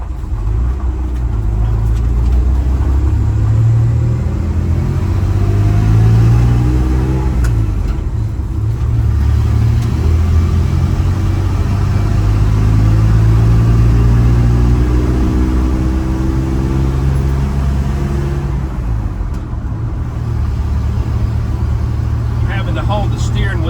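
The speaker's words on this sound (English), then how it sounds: "Let's run it a little bit, Kip." A Ford F100 truck under restoration with brake trouble is driven at low speed, its engine giving a steady close rumble that rises and falls with throttle, while people talk over it.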